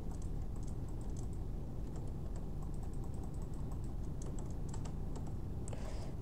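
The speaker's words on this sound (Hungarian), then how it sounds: "Hát egy kicsit hangos a billentyűzetem." Typing on a loud computer keyboard: rapid, irregular clacking keystrokes close to the microphone over a steady low background hum, with no voices.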